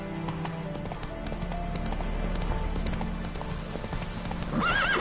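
Roach, a horse in The Witcher 3, gallops with loud, rapid clip-clop hoofbeats over a steady rumble, with a whinny near the end.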